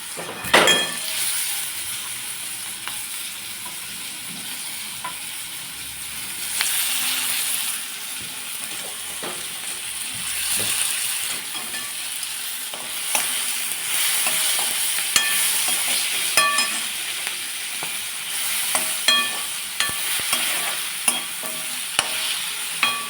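Tomato pieces fry with onions, green chillies and garlic in a pan for a fenugreek-leaf dal, a loud close sizzle with repeated metallic stirring clinks and scrapes.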